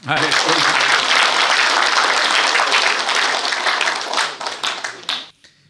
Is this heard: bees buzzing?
no